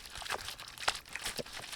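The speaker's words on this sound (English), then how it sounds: "I'll do a speeded up unpacking of one of the tool sets." A plastic bag crinkles and rustles in short, quiet bursts as a cheap unbranded luthier guitar tool set is unpacked, close and soft with no talking.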